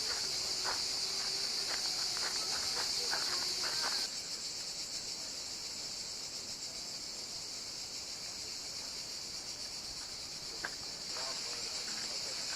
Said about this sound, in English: I love the sound of these cicadas or whatever these insects are.